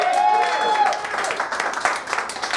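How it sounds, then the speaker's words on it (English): Studio audience applause for a contestant on a theatre sketch game show, a broad wash of clapping that starts over a brief voice and carries on steadily for a couple of seconds. "Fred, how about a round of applause for Fred?"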